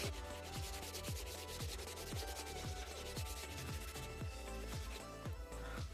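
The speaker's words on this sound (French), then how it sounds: "Il faut un peu poncer." A hardened resin surface in a shower is sanded by hand, with repeated rasping strokes in a steady rhythm, close and fairly loud with no talking.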